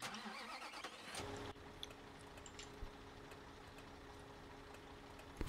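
A concrete pump truck in the construction game Bau-Simulator 2015 rumbles loudly for about a second as it pulls away, then its engine drops to a faint, steady hum.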